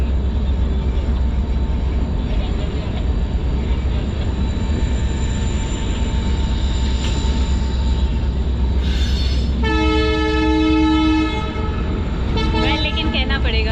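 A passenger train stands at Badarpur station in India, its loud steady engine and rail hum running throughout, with a long horn-like tonal blast near the end and bits of station noise.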